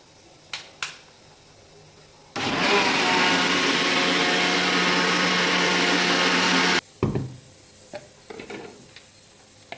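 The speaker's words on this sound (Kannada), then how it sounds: "ಈ ಮಿಕ್ಸರ್ ಮಾಡ್ಕೊ ಏಕದಮ್ ಸಣ್ಣ ಮಾಡ್ಕೋಬೇಕು." A kitchen mixer grinder whirs loudly and steadily for about four seconds while grinding rava (semolina) fine, with quiet handling clatter before and after.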